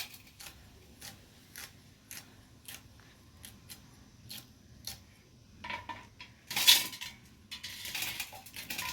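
A knife slices okra on a board for a fried okra dish, giving a steady series of sharp, close chopping taps, with a louder cluster of cuts and scraping near the end.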